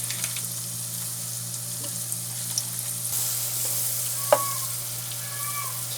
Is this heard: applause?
no